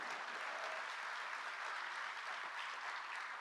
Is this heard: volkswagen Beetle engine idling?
no